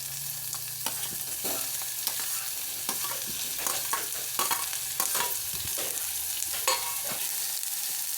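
Onion and tomato fry in a pan while being stirred. A continuous close sizzle is broken by repeated scraping strokes of the spoon, with no voices.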